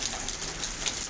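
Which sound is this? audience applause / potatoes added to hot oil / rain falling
rain falling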